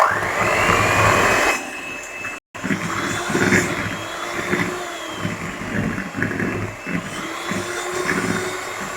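Flan batter being mixed with cornstarch, a steady whirring motor drone that runs loud and continuous throughout, briefly cutting out once early on before resuming.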